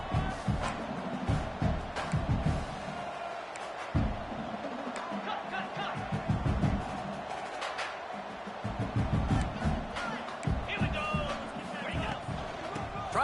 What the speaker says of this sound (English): And this crowd was already jacked up.